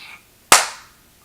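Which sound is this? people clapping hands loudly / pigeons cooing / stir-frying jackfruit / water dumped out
people clapping hands loudly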